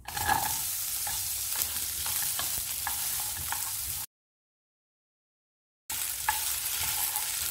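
Onions frying in sesame oil for a chicken curry sizzle steadily with scraping stirs, then a short stretch of silence before the frying resumes.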